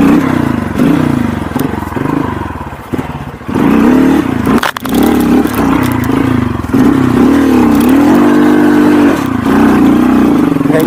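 A stock 125cc motorcycle revving on a rocky off-road trail, loud and close, with the engine rising and falling through repeated throttle blips and rattling clatter, and no talk over it.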